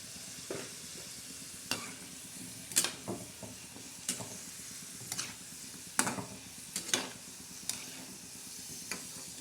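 Wheat flour dough roasting in a pan for sesame and coconut modak, with a quiet steady sizzle broken by repeated sharp scraping and tapping stir strokes at an uneven pace.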